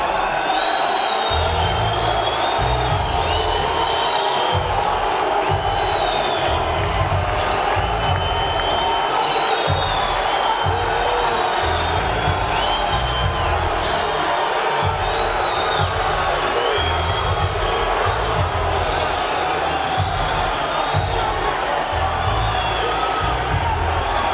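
Boxing arena crowd roaring and cheering steadily as fighter Diego Corrales steps through the ropes before his lightweight bout with Acelino Freitas, a dense continuous wall of whoops and shouts with no letup.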